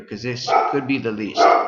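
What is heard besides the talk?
dog barking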